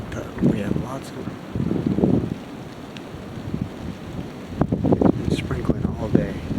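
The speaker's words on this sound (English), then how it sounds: "I have a great wind coming in here for my evening hunt" Wind gusting at a late-season archery hunting spot on a drizzly evening, buffeting the microphone in uneven rumbling bursts that swell and fade, louder toward the end.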